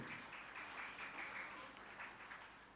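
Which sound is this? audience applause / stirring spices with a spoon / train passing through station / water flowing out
audience applause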